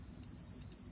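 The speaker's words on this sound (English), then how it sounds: "The lock will beep 4 times and the inductive light flash blue if succeed." An electronic door lock gives a few short, high-pitched beeps in quick succession over a low background hum, close and moderately loud.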